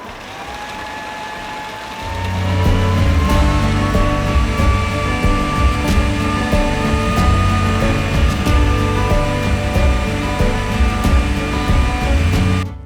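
A food processor whirs steadily as it blends avocado hummus, starting up after a couple of seconds of quiet and running loud and continuous with a droning motor tone until the end.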